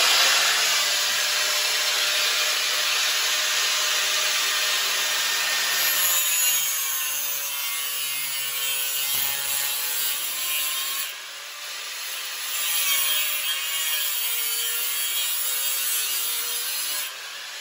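A steel toy part is notched with a cutting tool, giving a loud, steady, harsh grinding hiss that runs continuously close by, with slight changes in pressure partway through and no voices.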